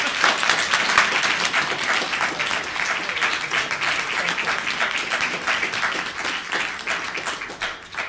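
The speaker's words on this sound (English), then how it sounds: "So let's give JoAnne a rousing round of applause" A crowd applauds at a public panel on housing barriers for people with justice involvement, producing a sustained, dense round of clapping that holds steady from start to finish without speech.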